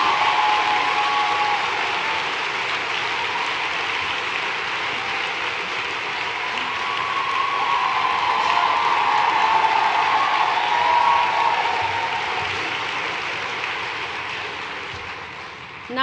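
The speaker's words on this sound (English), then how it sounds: "Now I know why this script said pause for applause" A large crowd at a public conversation event with Hillary Clinton and Christine Lagarde gives sustained applause, a broad and even roar of clapping that swells midway, holds for many seconds and then tapers off.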